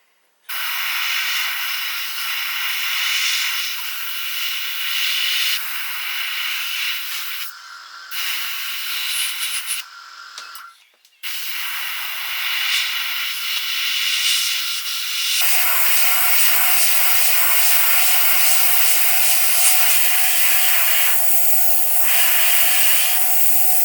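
An airbrush or spray gun sprays white paint onto the tail of a big handmade swimbait, a close continuous hissing spray broken by a few short pauses, growing louder and brighter in the second half, with no talk.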